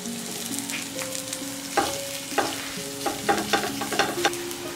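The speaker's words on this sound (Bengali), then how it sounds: "লবণ দিচ্ছি যাতে করে পেঁয়াজটা" Chopped onion with salt frying in a pan, a steady crackling sizzle broken by several sharp scrapes and clacks of a spatula stirring, fairly close and alone without any voices.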